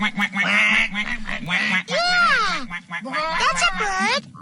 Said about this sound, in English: that sounds like a duck